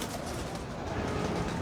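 A pigeon coos softly and steadily within a dense, noisy background that runs through the whole moment.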